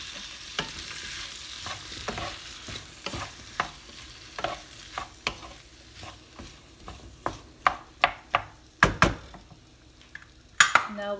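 Chopped tomatoes go into a hot frying pan for a black bean and potato stir-fry and are stirred, giving a steady sizzle with repeated scraping and clacking of the spoon against the pan, growing sharper toward the end.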